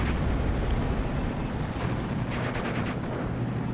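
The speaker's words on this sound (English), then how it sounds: "Mortar fire, gunfire" Mortar and gunfire in the World War II strategy game Steel Division 2, a steady dense rumble of battle noise with scattered bursts of shots running throughout, moderately loud and with no talking.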